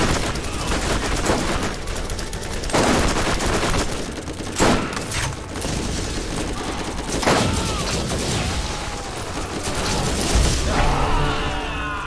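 Assault rifle fire from Borderlands comes in repeated close bursts and single shots, loud and steady across the clip, with booming impacts and no talk over it.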